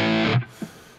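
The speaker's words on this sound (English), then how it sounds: "you can select different types of distortion, as you can hear." An electric guitar through a distortion effect, a thick saturated chord ringing loudly up close for a fraction of a second before cutting off, followed by a brief soft muted hit.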